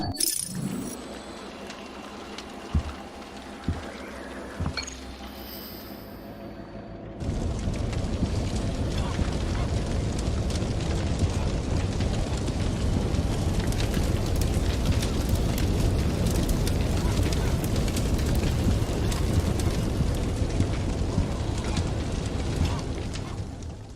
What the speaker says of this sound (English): Let's take a look at what happens when the fire breaks out now.